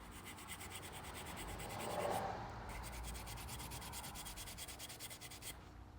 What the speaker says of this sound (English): I'm going to use Scotch-Brite pad, and we're just going to kind of clean up the ends of all these things